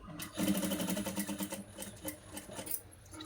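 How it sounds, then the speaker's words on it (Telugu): A sewing machine fitted with a single presser foot stitches piping onto a blouse, giving a quick close mechanical whir of rapid stitches for a few seconds. "నేను సింగిల్ పాదంతో కుడుతున్నాను పైపింగ్ అనేది ఎంత నీట్గా వస్తుందో చూస్తున్నారు కదా"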